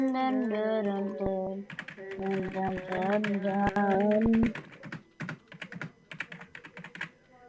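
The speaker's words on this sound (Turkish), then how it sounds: "Orada klavyemin sesi nasıl" Fast, close typing on a computer keyboard gives crisp, uneven clatters of keystrokes, heard under a person singing at first and then alone with brief pauses.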